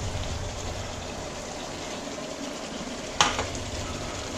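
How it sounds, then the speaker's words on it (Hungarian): Soft sizzling and crackling of meat cooking in a pan with tomato being stirred in, a steady hiss broken by one sharp clatter of the utensil near the end. "Szintén elkeverjük."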